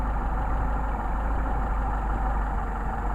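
Mercedes 190SL engine idling on Solex carburetors during adjustment, a steady close low rumble with an even, slightly uneven idle pulse and no talk.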